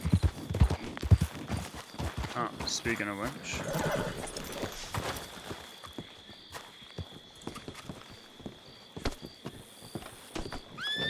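Horse hooves clip-clopping and a horse whinnying in the Red Dead western game, a rhythmic run of hoof strikes with a whinny partway through, mixed under someone talking and game ambience.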